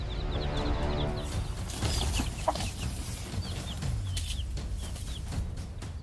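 A mother hen clucks in repeated agitated bursts while defending her chicks against an eagle, her calls near and fairly loud over a steady outdoor background with no voices.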